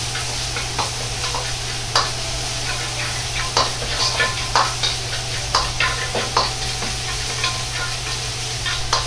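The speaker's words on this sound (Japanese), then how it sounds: "ニンニク生姜の上に油を少量垂らして香りを引き出すように炒めていきます。" Garlic and ginger stir-fry in a little oil for butter chicken curry, giving a steady close sizzle with repeated scraping strokes of a spatula against the pan and no voices.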